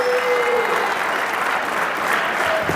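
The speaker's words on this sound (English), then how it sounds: "Let's give him a big round of applause." A crowd applauding a high school athlete at a National Signing Day ceremony, loud continuous clapping close by with no pause for its short length.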